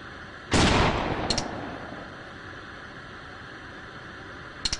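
Pistol gunfire in the video game AVA: one loud sharp shot with a slowly fading tail, then a couple of faint distant cracks and two quick shots near the end, heard alone without talk.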